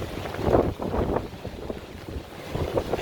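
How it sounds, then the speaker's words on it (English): Strong gusts of wind buffet the microphone on Pearson Street in Streeterville, Chicago, during a rainy walk, producing a continuous low roar with rising and falling surges. "Very, very windy and raining."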